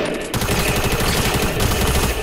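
Rapid bursts of machine pistol fire in a shooter video game, dense repeated shots rattling loud and close after a brief quiet start, continuing without pause to the end.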